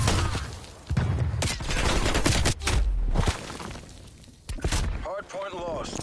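A stun grenade goes off amid Call of Duty Cold War gameplay: a burst of bangs and heavy thuds layered with gunfire and battle noise, with game voices talking over the action.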